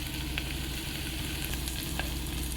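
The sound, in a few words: onion, chillies and curry leaves frying in groundnut oil in cooker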